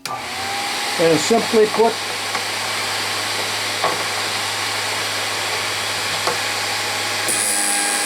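A Vevor Model 13A drill bit grinder, a heavy benchtop sharpener, runs with a loud, steady motor whine and a few brief scraping bursts. Someone talks briefly over it, and the hum stops near the end.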